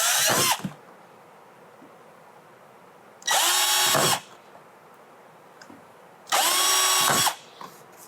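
A power drill whirs in three short bursts separated by pauses, high-pitched motor whine rising as it bores a pilot hole in a deck for pad and gear track mounting, close by.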